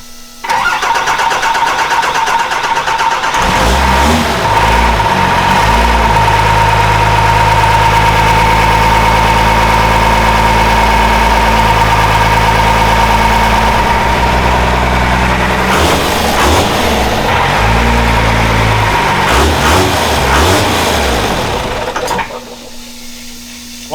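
A 1964 C60 truck engine turns over and runs at a loud, rough idle, dies and restarts a couple of times before cutting off near the end, with steady low rumble throughout.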